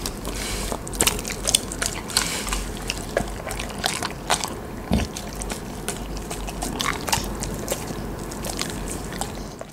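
A dog chews and bites into a large jelly pudding snack, giving close, wet biting and smacking sounds in an irregular rhythm that continues throughout with no talking.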